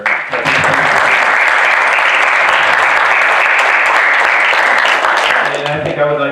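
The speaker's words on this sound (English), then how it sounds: "we need to give the legislators an applause for their" A roomful of people applaud local legislators at a community meeting, with loud, close, steady clapping that runs for about five seconds before a voice starts speaking over the end.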